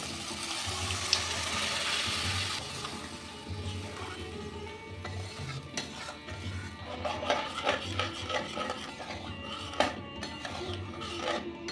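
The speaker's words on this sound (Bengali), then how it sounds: "এবার দিয়ে দেব ডাল আর পনির" Dal and paneer go into a pan of cooked spice masala with a soft wet rush at first, followed by close stirring and scraping clatter, moderately loud and without speech.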